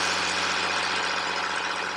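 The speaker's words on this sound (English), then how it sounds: "The engine's really working itself hard right now to try and burn off the soot particulate that builds up in the diesel particulate filter." A 2007-or-later Mercedes Sprinter diesel engine runs hard during a diesel particulate filter regeneration, giving a steady, close, dense drone with a constant low hum and no talk.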